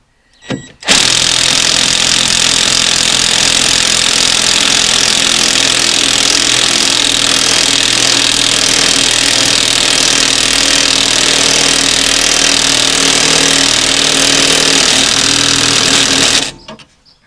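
An impact wrench runs continuously for about sixteen seconds tightening sway bar bolts on a Yukon Denali, a loud, dense, buzzing rattle, very close, starting and stopping abruptly with no talk over it.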